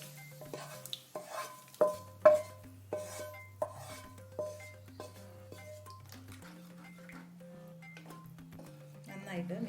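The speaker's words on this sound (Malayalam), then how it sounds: "നന്നായിട്ട് മിക്സ് ചെയ്ത് കൊടുക്കാം." Warm curd stirred into moru curry in a pan with the flame off, a spoon scraping and clinking against the metal in a run of sharp strokes that soften into gentle stirring, while someone speaks over it.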